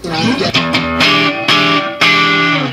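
An electric guitar through a Marshall JVM210 tube amp strums a series of full chords with a slightly gritty, overdriven tone, each chord ringing out before the next.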